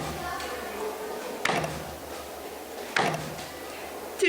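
Open-handed thumps on a person's chest echo like a struck drum inside a resonant stone chamber at a Cambodian temple site, two sharp booming hits about a second and a half apart with a fading ring, over faint room noise.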